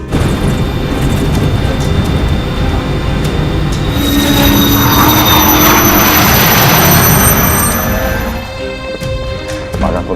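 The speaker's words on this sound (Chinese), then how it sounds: "现在飞机离地， 执行午间飞行" A test aircraft's jet engine roars loudly and steadily during a test flight, with a rising high-pitched whine swelling midway before easing off.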